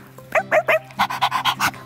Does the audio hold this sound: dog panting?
yes